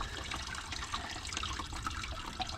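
Engine coolant drains from a loosened lower radiator hose on a Pontiac 6000 wagon with a 3800 supercharged engine, making a steady close splashing trickle into a drain pan with no talk.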